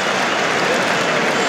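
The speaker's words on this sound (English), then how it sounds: "And the cheer broke out very quickly." Cricket crowd at an England v India Test match roaring and applauding a boundary, a dense, loud, steady wash of cheering and clapping throughout.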